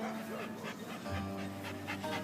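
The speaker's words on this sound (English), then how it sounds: "She's a little distracted by that barking dog" A dog pants steadily and close, with a sharp bark or two in the background during a walk on a leash outside an animal shelter.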